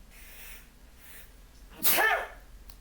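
A single loud sneeze bursts out close to the microphone after a quiet stretch of faint room noise.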